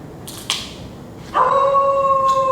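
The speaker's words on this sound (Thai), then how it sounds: "เสียงหมาเห่า" A dog inside an abandoned 1990s office building gives a short sharp bark, then a long sustained tonal howl-like cry that carries on steadily, fairly close and alone.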